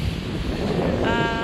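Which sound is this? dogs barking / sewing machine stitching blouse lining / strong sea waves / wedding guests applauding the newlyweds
strong sea waves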